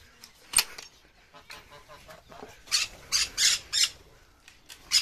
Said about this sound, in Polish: przenoszę papugi i tym podobne